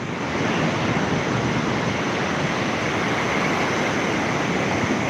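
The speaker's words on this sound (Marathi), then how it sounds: "मुळा मोठ्या नदीचं पाणी कसं वाहत आहे" Flowing river water rushes in a steady, loud broadband roar, constant throughout with no voices.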